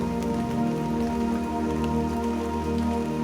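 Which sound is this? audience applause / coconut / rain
rain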